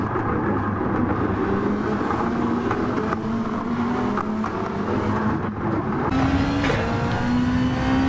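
Race cars roar side by side through the 130R curve at Suzuka in Gran Turismo 7, a sustained engine drone with rising pitch as they accelerate, loud and continuous with tyre and wind noise.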